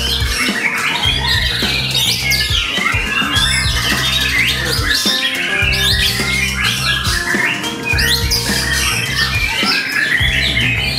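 White-rumped shama (murai batu) singing loudly and close up, a dense, continuous stream of varied squawks, chirps and rapid trills over a low repeating background pattern, without talk.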